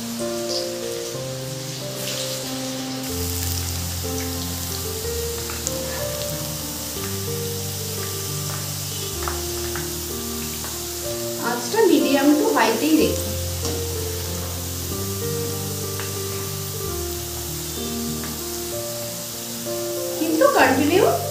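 Potato slices frying in refined white oil over high heat, a steady sizzle that swells into two louder crackling bursts, heard beneath continuous background music.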